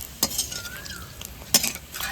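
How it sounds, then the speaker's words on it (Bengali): Sabudana papad fries in hot oil in a wok, with quiet sizzling broken by a few sharp scraping and clinking strokes of a utensil against the pan, close and fairly soft. "দেখুন কড়াইয়ের ভিতরে তেলটা ভালো করে গরম করে নিয়েছি, এইবার আমি পাঁপড়টা ভেজে নেব।"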